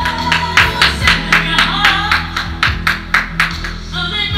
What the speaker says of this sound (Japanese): 警報器に拍手